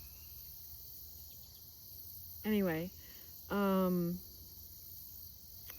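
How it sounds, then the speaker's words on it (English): Outdoors, crickets keep up a thin, continuous high-pitched chirring in the background. A voice speaks briefly over it twice. "and crickets"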